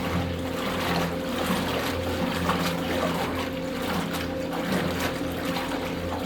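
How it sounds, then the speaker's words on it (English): A milk cooling tank's agitator runs steadily in a dairy milk house, giving a continuous loud mechanical hum with a sloshing, watery wash of milk over it, unchanging throughout and with no voices. "So the agitator is on right now to keep it moving and cooling."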